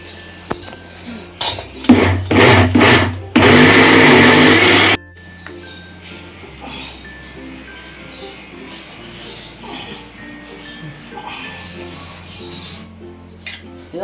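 A kitchen mixer grinder whirs through sambar spice powder with a pounded garlic and cumin paste. It starts with several short, loud pulsed bursts and then gives one steady, close roar of a second or two before stopping.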